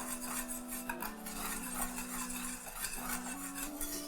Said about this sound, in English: I'll just whisk in my dry okra